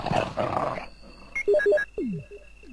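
A dog growls and snarls in the Resident Evil 1 video game, a short burst followed by brief electronic beeps and tones from the game.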